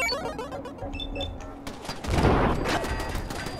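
Rapid gunfire from a video game turret, a brief burst swelling into a louder, dense blast of shots amid busy game noise and overlapping talk.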